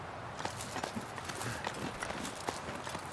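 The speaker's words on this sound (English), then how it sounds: "And down the rope we go." Footsteps thud in an uneven rhythm while a character climbs down a rope in The Long Dark survival game, the soft impacts steady and fairly close, with no talk over them.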